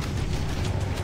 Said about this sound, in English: Explosion of the engines.